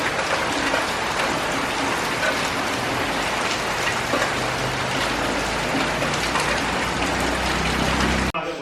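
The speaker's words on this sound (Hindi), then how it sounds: "देखिए बाहर हो रही है बहुत ज़ोर की बारिश" Heavy rain pours down in a dense, steady roar, drops drumming on surfaces nearby, loud and unbroken throughout with no one speaking.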